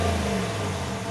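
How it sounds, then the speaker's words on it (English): A 2019/2020 RAM 1500 Laramie pickup's engine revs steadily through its dual tip exhaust, a fairly quiet, smooth rumble with a low drone and no voices. "this truck does have the dual tip exhaust, which actually sounds pretty nice"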